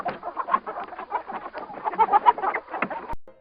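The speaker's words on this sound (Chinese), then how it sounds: "是 chicken" Farm chicken clucking in a rapid, busy series of short calls, close and fairly loud, with the sounds of other birds mixed in, ending in a sharp knock.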